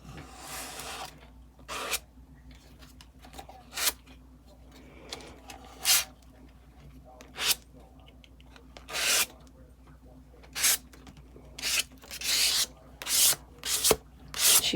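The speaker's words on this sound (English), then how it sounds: "So I'm going to scrape off camera over here on my other sheet" Paint being scraped off onto another sheet gives short, separate rasping scrapes at irregular intervals, close and fairly faint, with quiet gaps between strokes.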